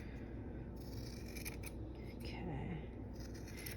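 Scissors snip quietly at a yarn pom-pom for a pom-pom earring, giving soft, close cutting and rubbing sounds at a low level.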